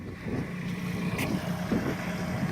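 A tractor lifts a chicken coop braced on two 2x4s with its hay spears, the engine's steady low rumble running throughout with outdoor wind noise, no talking.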